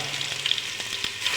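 Ginger and garlic sizzle and crackle in hot oil as they are stir-fried, a short, continuous close-up frying hiss with small pops.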